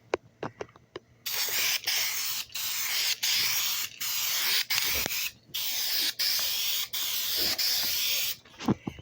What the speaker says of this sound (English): we're just gonna spray a little more paint